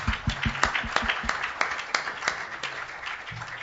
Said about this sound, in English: we can all give him a round of applause